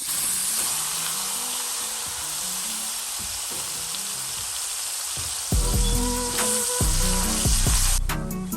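Shaved steak sizzles and crackles in a hot skillet, a steady, bright frying hiss that grows louder partway through as the meat settles in, with soft background music underneath.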